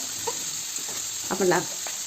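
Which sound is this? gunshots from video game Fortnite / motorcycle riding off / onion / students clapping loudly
onion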